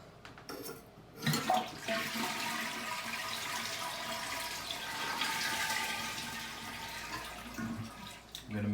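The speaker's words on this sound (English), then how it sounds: "when you go ahead and flush it, it's gonna start emptying this tank out here" An old household toilet flushes close by, with a sharp initial rush that settles into a long, steady roar of the tank emptying and water swirling.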